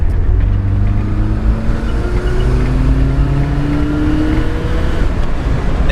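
A turbocharged car with a boost problem accelerating hard, engine note rising steadily through the revs, loud and close from start to finish.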